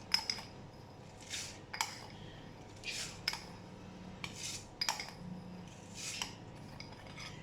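Spoonfuls of sugar go into a mint margarita mix, a spoon clinking and tapping against a container about six times in an irregular rhythm, faint and close, with no talking.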